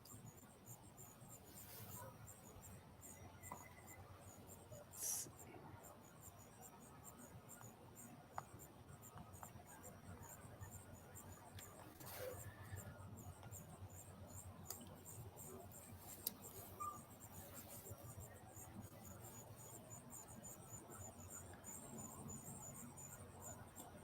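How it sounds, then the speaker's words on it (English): Crickets chirp steadily in a faint, continuous high-pitched buzz during a solar eclipse, soft and distant, with occasional small clicks and rustles near the microphone. "I'm really hearing the crickets now for some reason."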